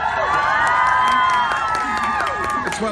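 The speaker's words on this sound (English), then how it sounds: "give your homecoming girl a big round of applause" Homecoming crowd at a school event cheering, whooping and shouting for a returning singer, a loud, dense wall of excited voices with children's shouts rising above it.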